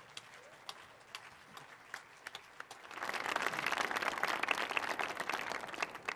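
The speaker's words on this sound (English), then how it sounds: "let's give a round of applause for Zach Pride" Audience applause for bassist Zach Pride at a jazz concert by a military big band, starting from scattered claps and swelling after about three seconds into a dense, steady ovation from the crowd.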